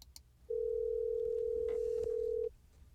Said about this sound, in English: What will happen is first I'll just see myself and I will hear the phone ringing.